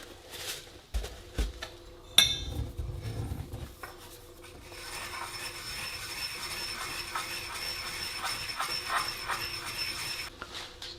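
Seasoning for smoked venison is ground into powder close by: a few knocks and a sharp clack come first, then a steady, rasping grind runs on and on without talk.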